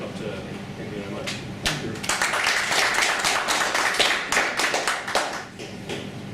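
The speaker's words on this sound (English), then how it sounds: "I hope you will applaud like that towards the end" An audience at a secular society talk breaks into applause, a dense burst of clapping that swells and holds for several seconds before thinning out, with speech faintly underneath.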